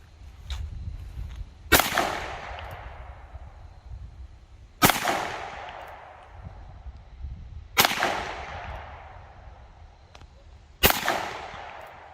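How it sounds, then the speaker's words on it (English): Four sharp, loud gunshots from a North American Arms Ranger 2 mini revolver, spaced about three seconds apart at an outdoor range, each crack followed by a decaying echo over low background rumble. "we're gonna go fire off a couple rounds."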